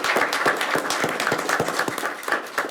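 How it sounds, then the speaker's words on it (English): A round of applause for students at a school board of education meeting, with close, rhythmic claps from a modest group sounding at a steady loud level throughout. "Big round of applause for those guys."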